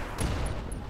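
Weapons fire from mechs in the BattleTech game Roguetech, a short burst of dull booming impacts with sharp high clicks, brief and moderately loud without talking.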